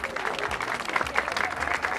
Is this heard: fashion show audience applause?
yes